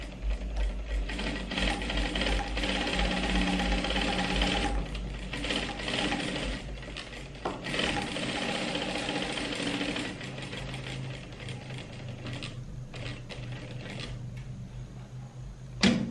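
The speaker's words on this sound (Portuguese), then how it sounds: "agora eu vou pespontar em cima dessa linha amarela" A sewing machine topstitches along a line on a pillowcase with flaps, running in a close, steady mechanical whir with a rapid stitching rhythm and a few brief pauses near the end.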